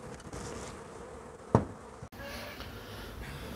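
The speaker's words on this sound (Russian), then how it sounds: "Пчелки потихоньку входят." Bees buzzing as a swarm settles into a Kenyan top-bar hive, a steady low hum with one brief sharp knock midway and a slight shift in tone near the end.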